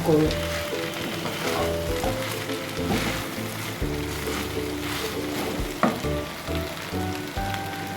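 Fish heads fry in a thick gravy for Bengali murighonto, a loud, close sizzle and bubbling with occasional stirring knocks against the pan, continuous and without voices.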